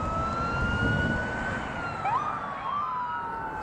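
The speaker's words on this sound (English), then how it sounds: "More sirens." A loud, continuous wailing siren sweeps up and down in pitch, with a second siren layered over steady traffic rumble; no voices.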